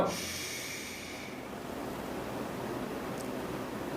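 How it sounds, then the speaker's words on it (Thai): A person takes a deep inhale during a breathing exercise, a short close rush of air at the start that fades into a faint, steady hiss. "หายใจเข้า"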